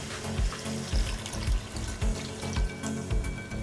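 About a cup of water poured into a pan of fried onion while cooking caldu, a close, steady splashing stream with a rhythmic gurgle, heard alone.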